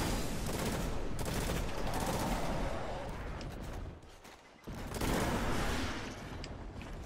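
Dense turret and gunfire in Destiny, Taniks strike, loud and continuous volleys with a brief lull around the middle before firing resumes at full intensity.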